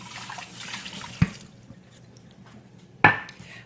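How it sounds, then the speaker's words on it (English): Container rinsed under running tap water in a kitchen, a soft splashing flow at first, then two sharp knocks as the container bumps the sink, close and moderately quiet. "Let me just rinse this out."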